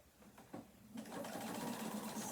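A sewing machine stitches a waistband seam, starting with a few short stuttering runs, then a steady whirring stretch close by at moderate volume.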